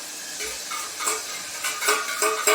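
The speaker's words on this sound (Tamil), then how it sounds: "அரைச்சி வச்சுருக்கோம்ல வரமிளகா, மல்லி, சீரகம், பூண்டு இதை போட்டுக்கலாம்" Ground red chili, coriander, cumin and garlic paste are stirred in a frying pan, with soft sizzling and a few scraping stirs close by and no talking.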